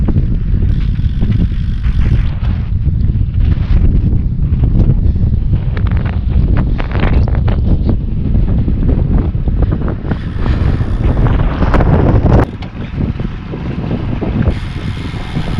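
Steady roaring headwind buffeting the microphone while cycling up a long 2% false-flat valley during a 1000 km ultra-distance bike race, continuous and loud throughout with a brief dip near the end.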